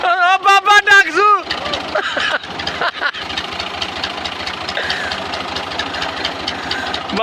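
A tractor engine runs with a steady rapid chugging knock, loud and close, after a child's high singsong vocal bursts at the start.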